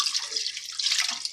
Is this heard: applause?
no